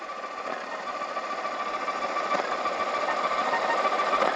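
A Sony ICF-2001D radio receiver picks up noise, a steady buzzing hiss with a rapid pulsing, sewing-machine-like chatter that grows slightly louder, heard alone without talk.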